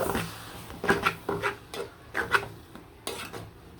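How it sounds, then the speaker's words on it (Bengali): Leafy greens being stirred in a cooking pot, a series of soft scraping and rustling strokes in an irregular rhythm, close and fairly quiet with no talk. "শাকটা ভালো করে নাড়াচাড়া দিয়ে দেবেন"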